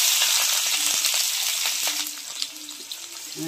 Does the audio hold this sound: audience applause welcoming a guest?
no